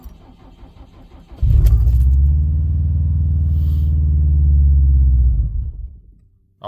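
A Subaru WRX STI running E85 cold-starts with a low, heavy rumble that holds for about four seconds, then fades out as the engine dies, leaving near silence.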